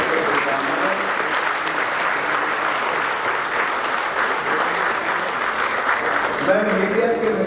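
Sustained audience applause for the athletes at a sports ministry event ahead of the Asian Games, a dense steady clapping from a large crowd lasting throughout, with a voice faintly emerging near the end.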